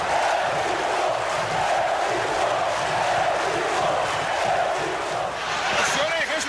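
A packed stadium crowd of Vasco fans shouting and chanting during a 1999 Brazilian league match against Paraná, a broad sustained roar with rhythmic swells, and a voice speaking over it.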